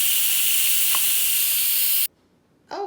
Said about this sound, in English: when you stop hearing that hiss, that means that all the steam is out